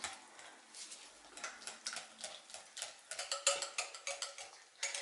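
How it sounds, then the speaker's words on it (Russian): A whisk beats lemon cream mixed with mascarpone in a bowl, making quick, rhythmic light ticking strokes against the sides, close and fairly quiet. "При помощи венчика крем нужно будет хорошенько взбить."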